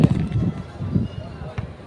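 A firecracker going off in a Philippine street setting, with sharp pops bursting repeatedly at close range amid people talking loudly.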